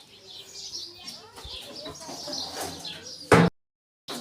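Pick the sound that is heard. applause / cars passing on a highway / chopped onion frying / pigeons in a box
pigeons in a box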